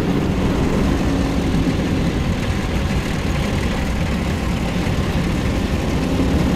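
A steady, low droning airplane engine hum in War Thunder, staying constant throughout, fairly loud and uninterrupted, with no voices.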